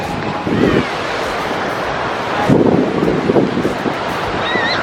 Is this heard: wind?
yes